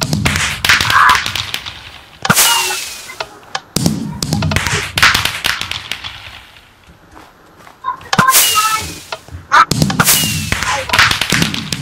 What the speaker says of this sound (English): I can do fireworks